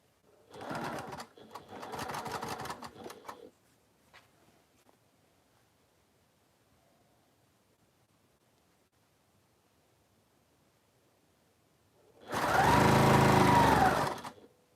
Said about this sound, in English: I'm just sewing this now together on the machine to get that on.